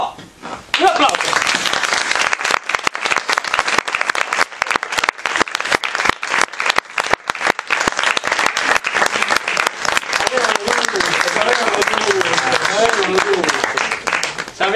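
Loud, sustained applause from a large theater audience greeting the actors of a Romeo and Juliet comedy show, dense clapping continuing steadily with crowd noise and voices mixed in.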